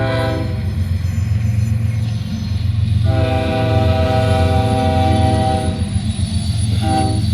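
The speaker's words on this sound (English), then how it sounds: "Couple of ES40 DCs. Head north there." Northbound freight led by two ES40DC locomotives passing close at Greenwich, Ohio, a steady loud low engine roar with sustained horn-like harmonic tones swelling midway, no talk.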